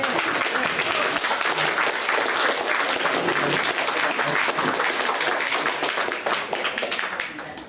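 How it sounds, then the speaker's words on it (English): A small crowd at a pay equity panel held by the Wellington Socialist Society gives Mary a hearty round of applause: close, dense clapping that stays strong before tapering off at the end. "Let's just give a round of applause for Mary."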